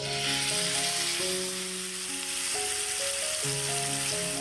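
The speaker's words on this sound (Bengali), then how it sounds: "ওই তেলের মধ্যেই আমি দিয়ে দেব ম্যাশ করে রাখা বেগুন আর টমেটোটাকে" Mashed eggplant and tomato fry in hot mustard oil with a steady, continuous sizzling hiss, heard under background music without any talking.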